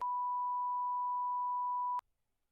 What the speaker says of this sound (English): I hope the beeps worked